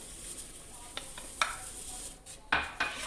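Whole wheat flour being stirred into ghee in a wok, with a faint steady sizzle under scattered scraping and clinking strokes, including a sharper pair near the end. No one speaks.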